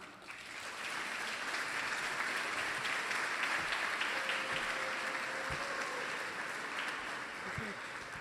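An audience at a lecture applauds to welcome Isabel Dela Cruz Ernst, a sustained wash of clapping from many hands that holds steady, with faint voices beneath.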